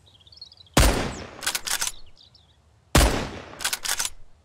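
Revolver shots fired at a bear in the survival video game Mist Survival, two loud sharp reports about two seconds apart, each followed by a rolling echo, with faint bird calls in the quiet between.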